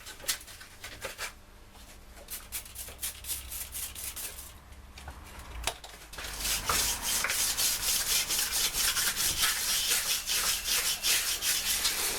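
Metal being sanded with 120 grit paper on a heavy metal flat block during an Austin 1098cc engine strip-down, with slow scattered rubbing strokes at first and then rapid, loud, rhythmic back-and-forth scraping.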